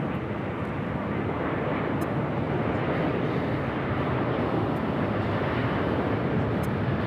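An airliner's jet engines roar steadily and loudly as it takes off from runway 24 left at LAX, a broad continuous rumble that holds without breaks and carries no voices.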